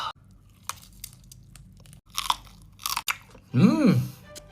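Someone chews sausage with long beans, large chilli, garlic and broccoli: a few close, crisp bites and crunchy chewing bursts separated by quiet pauses, with a short vocal sound near the end.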